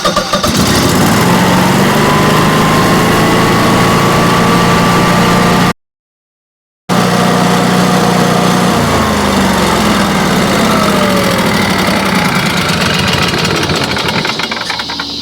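A Generac standby generator engine cranks, catches and runs loudly at a steady idle, with a short dropout partway through before the engine drone resumes.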